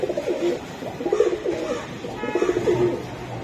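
A Giribaj high-flying racing pigeon is present as repeated throaty cooing sounds in bursts over a low background, fairly close, with no talk.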